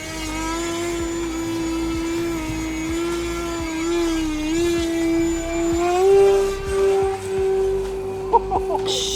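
An E-flite Super Decathlon 1.2 m RC model airplane flies with its electric motor whining as a steady tonal drone, rising in pitch around the middle, followed by a few sharp clicks near the end.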